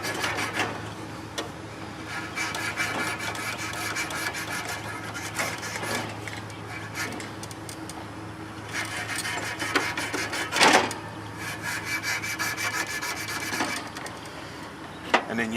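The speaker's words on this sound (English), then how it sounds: "And you can sand that rust down." Sandpaper rubs rust off a metal part during an HVAC service call, a continuous close gritty rasping with uneven strokes and a few sharper scrapes, steady and moderately loud with no talking.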